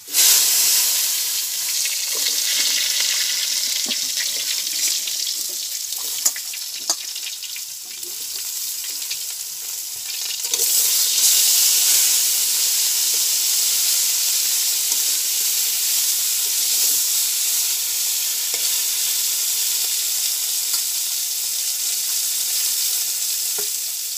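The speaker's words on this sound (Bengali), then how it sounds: "ঢেঁড়সটাকে ভেজে নিতে হবে" Okra fries in hot oil in a pan, giving a loud, continuous sizzle and hiss throughout with a few faint stirring clicks, and no talking over it.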